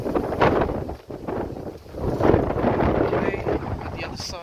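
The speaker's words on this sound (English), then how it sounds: "It's getting windy." Gusty wind buffets the microphone in rushing surges at a trainspotting spot in Denistone, loud and close, with faint talk underneath.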